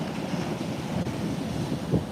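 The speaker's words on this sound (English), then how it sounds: "the waves are splashing up the headland" Ocean waves break and splash up against a headland near a point break, a steady, loud rush of surf mixed with heavy wind buffeting the microphone.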